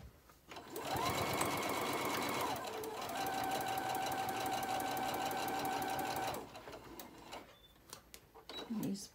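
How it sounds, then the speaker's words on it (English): Sewing machine running steadily while stitching a Christmas pillow case, a close, continuous mechanical whir broken by a short pause, then ending and giving way to quiet handling noises. "try to sew as straight as you can."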